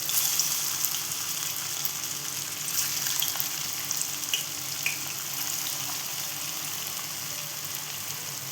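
Vadas sizzle in hot oil as a continuous, loud frying hiss with no voices.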